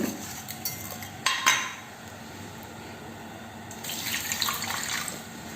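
Water runs from a tap onto tamarind and salt in a bowl for soaking, with a few clinks of utensils early on and a second stretch of running water near the end; nobody speaks.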